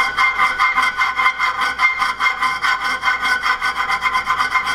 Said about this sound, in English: just with a hand file or die grinder, but it's only a little bit, so hand file will work